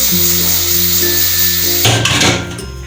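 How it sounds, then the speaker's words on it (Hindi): Mutton nihari sizzles and fries in a pressure cooker, a loud close hiss with a steady hum. Partway through it turns into rattling scraping and stirring. "अभी हम 1 से 2 मिनट इसको भून लेंगे।"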